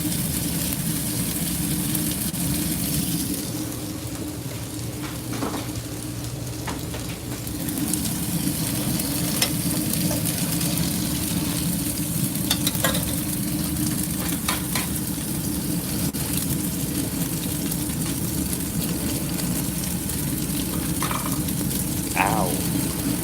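Eggs and hashbrowns fry in a pan with a steady, close sizzle that runs the whole time. Faint scrapes and taps of a utensil come through now and then, and no one speaks.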